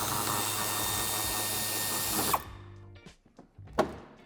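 A power tool whirs continuously while removing screws from a BMW E91 Touring bumper, then cuts off and leaves a few clicks and handling knocks close by.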